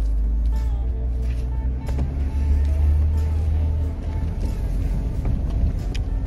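An off-road vehicle climbs a hill in forward low range with lockers engaged, a steady low engine drone with wind rumble and faint rattles throughout, close to the microphone.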